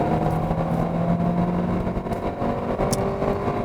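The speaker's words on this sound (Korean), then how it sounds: "한번 가속을 해보겠습니다." An Audi A4 with a petrol engine under 200 horsepower accelerates from just below the speed limit, heard from inside the cabin as a steady, fairly loud engine drone with continuous road noise and no talking.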